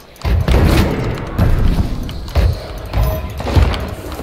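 Ghosts firing guns at the player in the pirate game Sea of Thieves, heard as a series of loud, booming thuds spaced about a second apart over a continuous low rumble.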